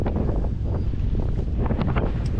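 Strong wind buffets the microphone on a sailboat out on open water, a loud, continuous gusty rumble with no voices.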